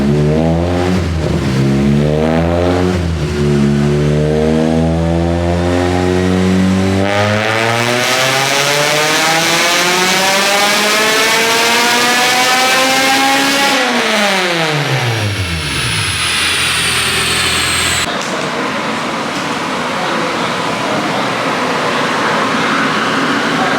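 Honda K24A engine revving on a dyno during tuning, loud and close, climbing through long sweeping pulls with rising pitch, dropping back, then holding at high revs.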